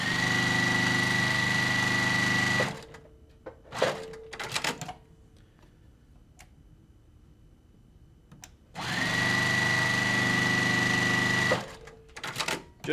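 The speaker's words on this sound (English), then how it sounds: "I'm going to go ahead and throw this onto my sewing machine." A sewing machine stitches fabric in two steady, loud bursts of about three seconds each, with a quiet pause of handling noises and small clicks between them.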